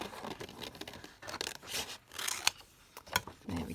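Scissors snip through decorative paper for a Victorian-style lapbook cover in a quick series of close, crisp cuts with rustling between strokes.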